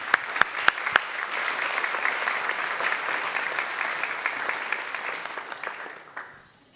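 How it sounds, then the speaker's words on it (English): Applause fills a graduation ceremony hall. A few sharp early claps swell into sustained, even clapping from a large audience, which holds for several seconds and then fades out. "Please give a warm applause to Natalia Englund och Josef Nkunga."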